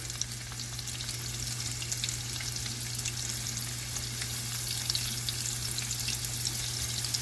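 Shrimp spread across a hot pan sear with a continuous bright sizzle and light crackling over a low steady hum, close and unbroken, with no one speaking.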